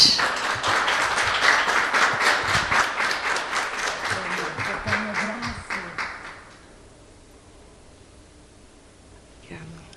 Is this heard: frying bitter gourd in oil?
no